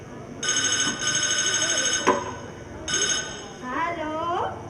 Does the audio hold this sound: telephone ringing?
yes